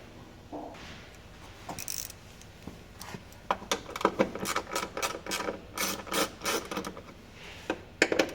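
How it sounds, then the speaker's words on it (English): Screws are backed out of a car's rear taillight housing, heard as a close series of sharp ratcheting clicks and scraping rasps that grow busier and louder toward the end. No talking. "So let's go ahead and take the screws out and I'll show you how to pull it out."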